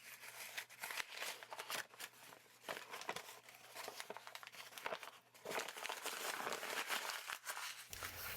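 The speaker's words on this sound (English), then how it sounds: "We're going to use crumpled paper." Paper crumpled by hand for a gel printing technique, giving close, continuous crinkling and crunching with sharp bursts throughout and no talking.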